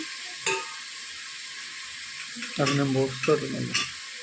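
Carrots for sambar fry in a pan with a soft, steady sizzle, broken by a few louder bursts of stirring and clatter. The hiss stays fairly close and even throughout.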